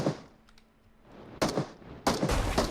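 Gunfire in PUBG Mobile: one burst of shots, then a quieter pause and a second sustained, louder volley, with no voices over it.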